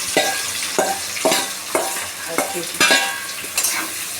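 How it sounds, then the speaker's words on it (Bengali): Raw onions dropped into hot oil for a mutton curry, frying with a steady loud sizzle and repeated stirring scrapes in a regular rhythm, close up with no voices. "দেখুন আমাদের তেলটা গরম হয়ে গেছে, এবার আমরা পেঁয়াজগুলো ছেড়ে দেবো।"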